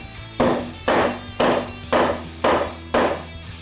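Six evenly spaced hammer strikes on a 1950 radio loudspeaker being restored, each a sharp metallic tap with a brief ring, steady rhythm, close and fairly loud with no talking.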